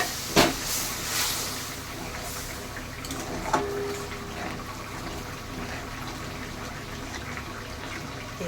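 Homemade coconut milk is poured into a simmering prawn curry, making a soft, steady liquid hiss with a couple of brief splashes near the start and middle.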